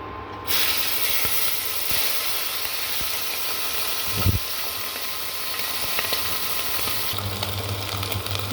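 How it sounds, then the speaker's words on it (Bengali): Tengra fish frying in oil with turmeric and salt, a steady loud sizzle and hiss from the pan, with occasional clinks and a brief louder burst partway through. "মাছগুলো সুন্দর করে হলুদ আর লবণ দিয়ে ভেজে এখন সুন্দর করে ভেজে নেব।"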